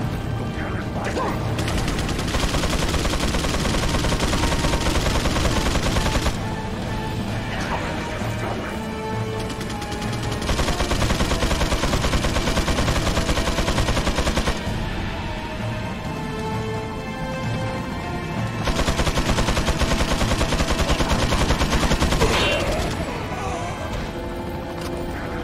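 Resident Evil 4 combat with rounds of gunfire and crashing impacts in loud blocks that alternate with quieter stretches, layered with mechanical clatter and game music underneath.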